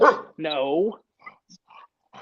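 A dog gives one drawn-out, whining bark close by, followed by a few faint, short sounds, with a person speaking briefly in the clip.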